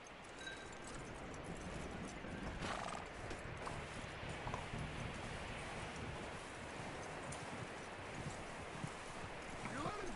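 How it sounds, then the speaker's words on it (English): In the Red Dead Redemption video game a horse clip-clops at a steady pace and lets out a neigh, with rain and rustling behind. The hooves sound moderately close and keep a regular rhythm, and people speak over them at times. "That looks like a decent horse"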